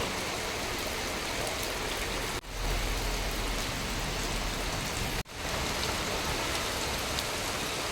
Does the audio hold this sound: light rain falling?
yes